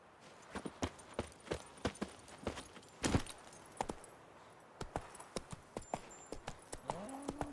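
Horse hooves walking in The Witcher 3, a series of separate clops in a loose uneven rhythm, close and clear over quiet ambience.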